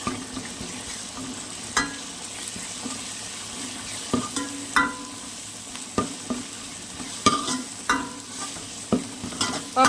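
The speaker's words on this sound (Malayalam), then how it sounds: "ഇനി ഇതിലേക്ക് ഇഞ്ചി വെളുത്തുള്ളി പേസ്റ്റ് ഇട്ട് കൊടുക്കാം." Sliced onions with ginger-garlic paste sizzle steadily in a pan on a home stove, with repeated scraping taps of a spoon stirring through the frying and no voices.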